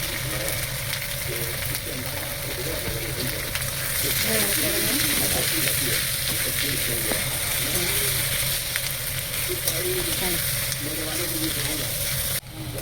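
Onion and taro (kochu) frying in a pan with turmeric, salt and chili powder, giving a steady, close broadband sizzle that lasts throughout, with a faint voice talking underneath.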